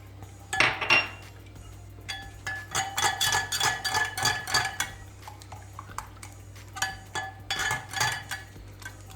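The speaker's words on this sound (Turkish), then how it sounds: "güzelce çırptıktan sonra" Eggs with salt, black pepper and red pepper are whisked in a bowl, giving bursts of quick, rhythmic metallic clinking and scraping with short pauses between them.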